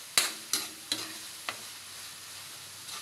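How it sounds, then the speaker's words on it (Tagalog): Pinakbet with ground meat and shrimp paste being stirred in a pan: four sharp utensil scrapes against the pan in the first second and a half, then a soft sizzle, with one more light scrape near the end. "Halo-haloin na mga palangga hanggang maluto ang giniling."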